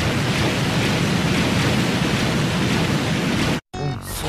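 Heavy rain pours in a dense, steady roar with low rumbling thunder underneath during a strange storm in an anime episode, cutting off abruptly near the end before a brief quieter tail.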